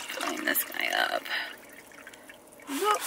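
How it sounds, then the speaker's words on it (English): A water bottle is filled from a tap, splashing liquid rising under a voice, with a gurgling swell of filling near the end. "Gonna fill up my water bottle."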